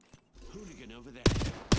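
Gunfire bursts in the battle royale shooter Apex Legends, two sharp loud volleys near the end following a stretch of spoken voice and game ambience.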